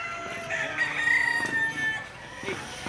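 A Kanawayon stag rooster, about eight months old, lets out a single drawn-out crow that rises and holds, close and loud against faint background noise.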